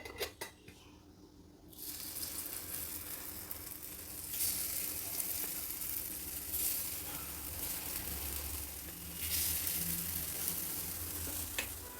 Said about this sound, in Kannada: ಈಗ ಎಲ್ಲ ಕುಳಿಗಳಲ್ಲೂ ಸ್ವಲ್ಪ ಎಣ್ಣೆ ಹಾಕಿ ಪಡ್ಡು ರೆಡಿ ಮಾಡ್ಕೊಳ್ಳೋಣ.